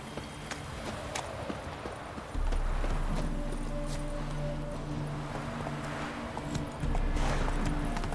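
Hooves of the horse Roach in a video game, a soft, continuous patter of steps under a steady ambient hum, with the footfalls growing fuller when the horse arrives partway through.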